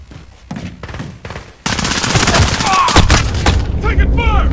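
Gunfire in a video game: a few scattered shots at first, then a sudden, loud, sustained barrage of rapid fire with booms, while voices talk over it.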